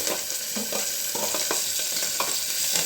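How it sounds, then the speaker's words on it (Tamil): Onion and curry leaves sauté in a pan, giving a bright, crackling sizzle up close with irregular stirring clicks and scrapes throughout. "வெங்காயம் நல்லா வதங்கட்டும். சிறிதளவு கருவேப்பிலை போடுறேன்."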